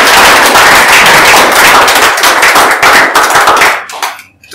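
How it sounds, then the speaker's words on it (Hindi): An open mic audience bursts into loud, dense applause after a Hindi poem, many hands clapping rapidly and close, before the clapping thins out and fades near the end. "बस इतना ही है, ताली बजा लो।"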